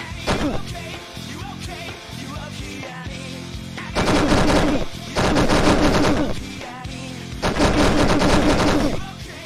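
Video game gunfire in rapid automatic bursts, loud and close, with a long magazine-emptying stretch and several sustained volleys separated by brief pauses.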